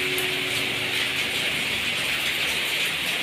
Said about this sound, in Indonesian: semuanya saja akhirnya mendapatkan kucuran air hujan ini